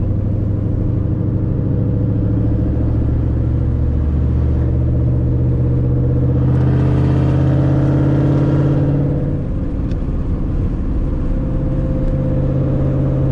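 A Ford Mustang GT S197 V8 drives aggressively, its deep engine rumble filling the cabin, swelling into a louder rev partway through before settling back to a heavy, steady drone.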